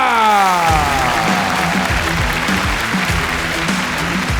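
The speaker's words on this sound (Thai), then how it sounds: "ขอเสียงปรบมือให้" A crowd at a boxing event applauds steadily after a TKO win, with sustained clapping that rises over a fading tone at the start and continues evenly to the end.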